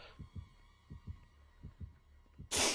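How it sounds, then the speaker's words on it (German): Heartbeat sound effect in the video game Dead by Daylight, a steady run of soft, low, paired thumps, fairly quiet, ending in a sudden burst of loud noise. "Ich höre auch einen ultralauten Herzschlag."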